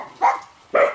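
Dogs on a snowy day as the thaw begins, barking in two loud close bursts with a short quiet gap between them.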